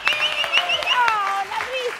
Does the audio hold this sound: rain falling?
no